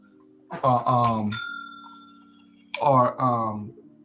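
A child at a desk strikes a small bell once, a clear ringing ding that lingers briefly between stretches of nearby talking.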